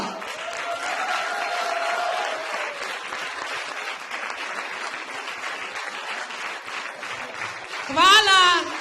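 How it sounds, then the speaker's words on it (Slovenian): Audience applause at a closing event in Braslovče, Slovenia, steady clapping with voices cheering early, then a short burst of louder whooping near the end. "Še en aplavz za Niko."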